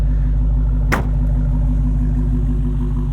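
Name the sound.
muscle car exhaust rumble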